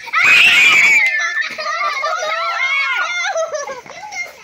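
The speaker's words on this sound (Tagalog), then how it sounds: "Huwag kayo sumigaw." Children scream loudly during a game, with a piercing shriek at the start followed by a stream of excited, high-pitched voices and squeals.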